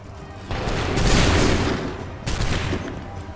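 Musket volleys in Assassin's Creed 3 crack out in two bursts, a loud ragged fusillade of many shots rolling together, then a second volley with echoing booms.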